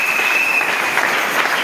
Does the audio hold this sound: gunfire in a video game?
no